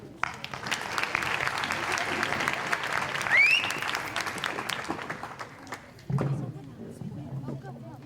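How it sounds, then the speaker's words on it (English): Audience applause at a Saudi cultural night at West Virginia University, a crowd clapping steadily and fairly loudly with a brief whistle partway through, cutting off abruptly before a voice starts speaking. "Let us give them a round of applause, everybody."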